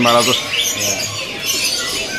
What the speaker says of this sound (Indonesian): ini anis kembang ya